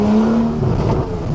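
A Porsche 911 (991.1 Carrera) with an open Akrapovic titanium slip-on exhaust revs while driving through a town, giving a loud, close, steady engine drone with a held note that drops into a rougher rumble.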